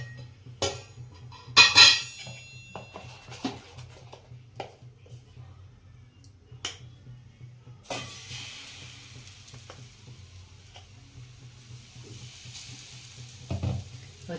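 Oil sizzles faintly on a hot griddle heating for a gram-flour and fresh fenugreek pudla, a soft steady fizz with a few sharper clinks and scrapes near the start.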